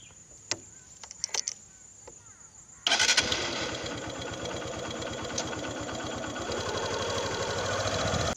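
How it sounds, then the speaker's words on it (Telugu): A motorcycle engine starts up after a few scattered clicks and knocks, then runs with a steady buzzing drone as the bike rides along a rural road, close and fairly loud. "ఆ 1 కిలోమీటర్ దూరం అయితే నేను బైక్లో వెళ్తున్నాను"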